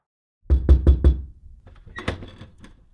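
Four firm knocks on a door in quick even succession, close and loud, followed by a short burst of mixed rustling and movement sounds.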